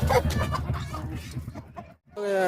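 Dense clucking from several native country chickens raised for meat, loud and close, with a busy, bustling livestock market background.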